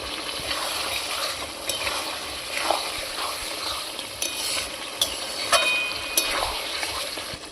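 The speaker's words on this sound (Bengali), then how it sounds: "অল্প অল্প জালে ঢাকা দিয়ে মাংসটা ভালো করে একটু কষিয়ে নেব।" Marinated goat meat sizzles and fries in a pot over a wood stove, a steady bright hiss near at hand, punctuated by occasional stirring scrapes and clinks.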